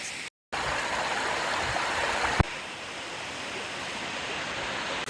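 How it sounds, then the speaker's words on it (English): Standing at the base of a forest waterfall on Vancouver Island: a constant, loud roar of falling water, broad and unbroken, with no voices. "are at the base of the waterfall now"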